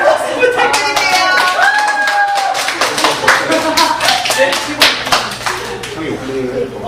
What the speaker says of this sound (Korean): 우리 다시 한번 큰 박수 부탁드릴게요.